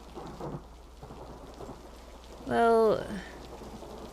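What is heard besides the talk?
rain and thunder of a storm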